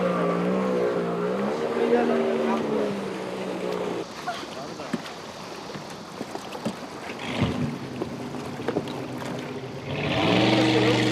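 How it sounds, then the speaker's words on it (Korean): A jet ski speeds straight across open water and weaves in S-curves, its engine droning loudly and steadily with splashing, while people talk over it. "제트스키야 멈추지 말고 이대로 저 끝까지 달려다오."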